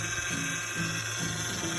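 A car with low power steering fluid, its pump giving a rhythmic, low groaning moan that repeats about every half second over a steady mechanical hiss, close up and without speech.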